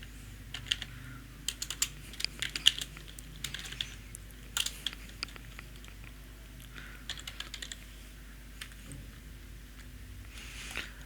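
Someone types on a computer keyboard while entering data in Microsoft Access, producing soft, irregular clusters of keystroke clicks with short pauses, close by over a faint steady hum.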